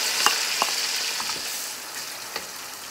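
Onions frying in oil in a pan with cumin and ginger-garlic paste, a soft continuous sizzle with a few light clicks and taps, no talking.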